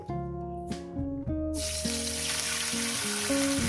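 Small mourala fish fry in hot oil with potato and onion, a steady broadband sizzle that swells in partway through and holds loud and close, with a tonal musical backing running throughout.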